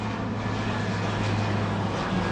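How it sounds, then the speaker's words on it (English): Low steady drone of a small light aeroplane passing overhead, a constant hum with a faint rise toward the middle, heard alone outdoors. "Oh, aeroplane. It's only a little light one."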